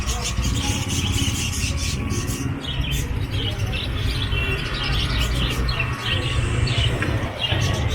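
Busy, steady chatter of many small birds chirping close by at a bird market in Kurla, with a low background rumble of traffic or crowd noise throughout.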